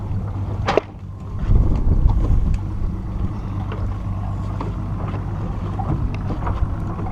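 A boat engine runs in gear at low speed while the boat is being anchored. It makes a steady low rumble with wind buffeting the microphone, and a sharp knock comes near the start.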